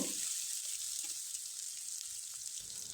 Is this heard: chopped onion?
yes